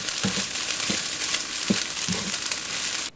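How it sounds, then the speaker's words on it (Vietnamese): Beef fried rice being stir-fried in a pan, with a constant sizzle and a few scraping, tossing strokes at irregular intervals. "Tiếp tục xào cho hạt cơm săn chắc lại là được"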